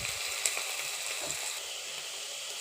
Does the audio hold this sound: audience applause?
no